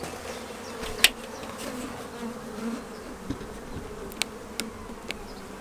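Honeybees droning in a steady, close swarm hum while a colony is transferred from a nuc box into a full-sized hive, with a few sharp clicks and knocks of hive frames.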